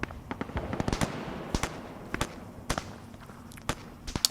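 Airstrike explosions in the military game Arma 3, a string of sharp booms and cracks at irregular intervals, some clustered, heard at a moderate distance.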